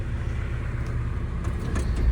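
A CASE excavator's diesel engine idling smoothly, a steady low rumble with faint clicks and knocks over it, close by and uninterrupted.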